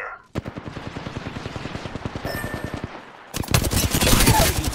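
Rapid automatic gunfire crackles in a shooter game, a steady close burst of evenly spaced shots that swells into a louder, denser volley near the end.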